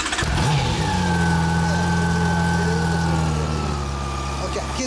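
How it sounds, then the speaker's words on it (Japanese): A 2015 Honda CB400 Super Four Hyper VTEC Revo motorcycle with a Moriwaki aftermarket exhaust starts and idles with a deep, throaty exhaust note, loud and close, holding steady with slight fluctuations. "このエンジンを聞かせてもらう"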